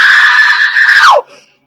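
A woman screams loud and close, one sustained high cry that breaks and slides downward before cutting off abruptly into silence.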